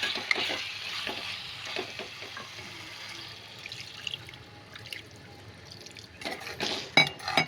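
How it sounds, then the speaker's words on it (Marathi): Masala stirring and frying in a pan, a quiet steady sizzle with scraping and clinking, until water poured in near the end sets off a louder, bubbling hiss. "आता ह्याच्यामध्ये थोडंसं पाणी टाकूया"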